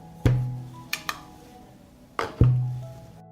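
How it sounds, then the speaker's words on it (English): Glass preserving jars with lids are set down one by one into a cloth-lined saucepan, giving two solid thuds with a ringing resonance and a couple of lighter knocks between them, close and clear. "I put the jars in the pot."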